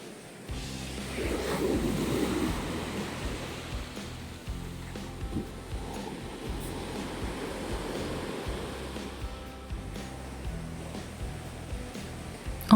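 Strong sea waves roll onto Preveli beach in Crete, a continuous rushing surf with swelling breaks and wind noise, fairly near and alone without voices.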